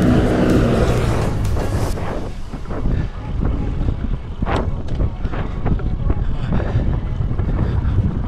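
Strong headwind roars and buffets the microphone while cycling uphill on a Laguna loop, a loud continuous rush with gusty surges throughout.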